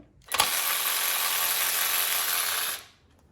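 A cordless ratchet runs steadily for about two and a half seconds, driving a fastener with a bright, even motor whine that starts abruptly and cuts off cleanly, heard close and alone with no talking.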